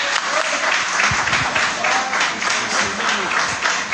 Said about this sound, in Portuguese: Vamos receber o nosso pastor com as fortes palmas para o Senhor Jesus.